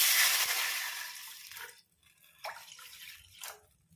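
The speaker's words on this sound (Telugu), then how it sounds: "పచ్చిమిర్చి వేయించుకున్నటువంటి పాత్రలోనే వాటర్, ఒక గ్లాస్ వాటర్ తీసుకొని వేసుకోవాలి." A glass of water splashes into the pan used for frying green chillies while making onion chutney: a short rushing pour that tapers into a few scattered drips and trickles, fairly quiet and close.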